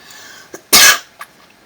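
A single sharp cough, close and loud, with a couple of faint breaths or small throat sounds around it in a quiet room.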